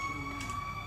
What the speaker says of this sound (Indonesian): Bunyinya wiu, wiu, wiu, wiu, wiu. Berarti ada pemadam kebakaran lewat.